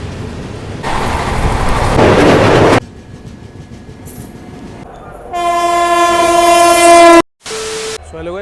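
Mangala Lakshadweep Express train horn blaring on a curve during a fast overtake, loud rumbling rail noise followed by long sustained horn blasts with rich harmonics, then a brief gap and a shorter final honk.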